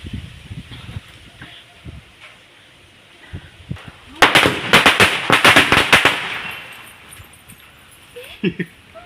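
A string of firecrackers bursts in rapid, loud cracks for about two seconds at a Ganesh immersion celebration, with scattered pops and a quieter outdoor crowd before and after.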